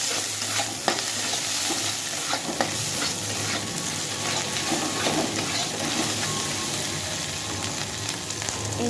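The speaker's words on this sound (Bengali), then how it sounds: "আলুটাকেও ভেজে নিচ্ছি পেঁয়াজের সাথে এরপর আদা বাটা দিয়ে দিলাম আদাটাকেও ভেজে নেবো" Potatoes, onion and ginger paste fry in a pan while being stirred, making a loud, steady sizzle with scraping from the utensil throughout and no voices.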